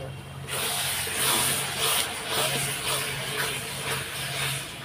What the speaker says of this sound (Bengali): এখন এটা আমি একটু কষিয়ে নিই।